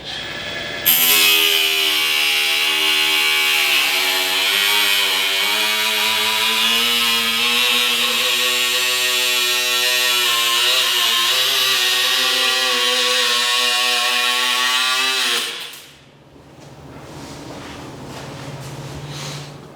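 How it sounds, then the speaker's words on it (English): A loud power tool whines steadily as it cuts through a plexiglass aircraft door panel, its pitch wavering slightly for about fifteen seconds before stopping abruptly. "A step I was absolutely not looking forward to was cutting the plexiglass."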